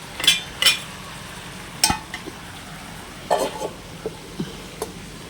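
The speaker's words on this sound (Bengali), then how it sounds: "পুঁই শাক দিয়ে একটু নেড়ে নিই" A spatula stirs Malabar spinach (pui shak) and prawns in a pan: a few sharp metallic scrapes and clinks at irregular intervals over a faint, steady sizzle.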